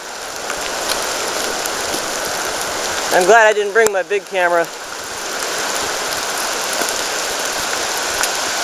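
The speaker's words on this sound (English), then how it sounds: "The rain's really coming down." Steady, dense hiss of heavy rain pours throughout, with someone briefly speaking over it midway.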